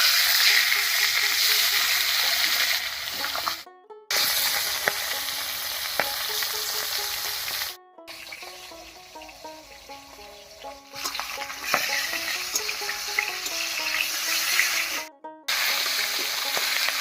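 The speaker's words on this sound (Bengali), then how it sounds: "মাছটা হালকা করে ভেজে নিয়েছি, এবার নামিয়ে নিচ্ছি।" Fish fried in mustard oil in a kadai over a lit stove sizzles loudly and steadily, with crackling spatter and a few brief cutoffs, no voices present.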